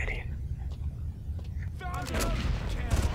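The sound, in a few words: gunfire from the video game Far Cry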